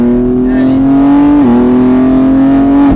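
A Catalyst race car accelerating hard on the Mireval track, its loud engine note holding steady, dipping briefly mid-run as the revs shift, then climbing again, close and without talk.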